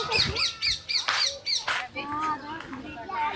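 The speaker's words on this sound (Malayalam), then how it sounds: "ഗ്രീൻ പാരറ്റ് ഉണ്ടല്ലോ." A green parrot in Dubai's Sustainable City squawks loudly and close by, giving a run of sharp, repeated calls over the first two seconds, followed by softer chatter while people talk nearby.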